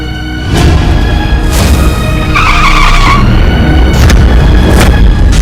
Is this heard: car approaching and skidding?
yes